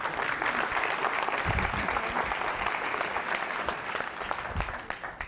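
An auditorium audience at a 2012 Founders' Symposium applauds steadily to welcome chemist Adah Almutairi, a full, even wash of clapping that holds for several seconds and then starts to thin.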